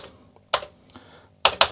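A few sharp, clacky keystrokes on a worn Commodore 64 keyboard in unknown condition land close up, with a single press followed by a quick pair after a pause.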